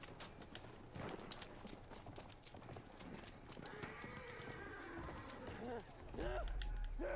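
In the video game Battlefield 1, a horse gallops past with quick clip-clopping hooves and a sharp whinny near the end, while players talk over the action.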